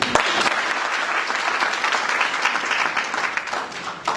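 A church congregation applauds to acclaim the Lord during a worship service, a dense, steady wash of many hands clapping close by that holds for the whole stretch.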